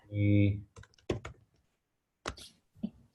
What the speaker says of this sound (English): can you see me typing here?